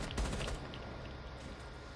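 Quick burst of video game gunfire, several rapid shots packed into the first half-second, loud and close, then trailing off into low rumbling background noise.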